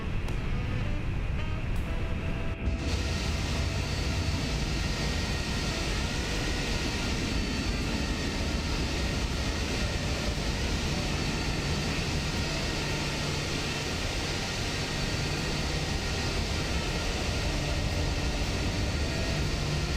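Steady broadband jet engine roar of a Fenix A321 airliner taxiing in Microsoft Flight Simulator 2024, continuous and even throughout, with a brief clunk near the start and no voices.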